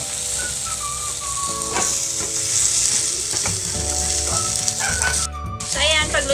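An egg frying in a pan on a sizzling plate for tuna sisig, giving a loud, continuous close-up sizzle with crackles and a few faint background sounds.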